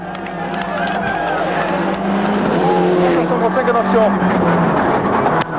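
Didier Auriol's Toyota Celica rally car on the 1995 Monte Carlo Rally, its engine rising and falling through the revs as it accelerates and shifts, heard loud and close with a voice speaking over it.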